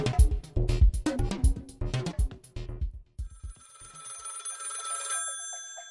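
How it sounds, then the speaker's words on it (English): A telephone bell rings loudly in rapid bursts of clanging rings, then gives way to a sustained electronic tone, heard alone without any voices. "The phone rings."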